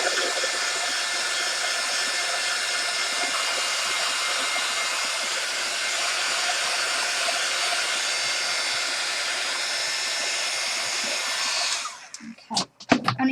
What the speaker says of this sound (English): while I put the heat gun on for a second